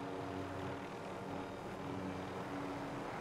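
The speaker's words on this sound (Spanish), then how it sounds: "¡Ojo el drone!" An enemy drone hovers overhead in Call of Duty Warzone, a steady droning engine whir at moderate distance that holds constant throughout, with no talk.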